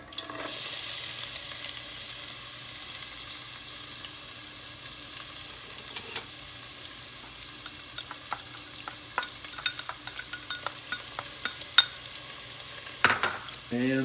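Chopped onion hits hot oil with popping mustard seeds in a pan for aloo gobi, giving a steady close sizzle dotted with sharp crackles and stirring clinks that carries on without any talk.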